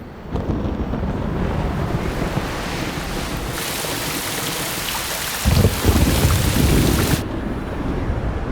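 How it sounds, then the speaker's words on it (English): Heavy afternoon rain pours steadily in a Borneo rainforest with a dense hiss, and a deep rumble of thunder swells near the end before the downpour continues. "the clouds break, releasing torrents of rain"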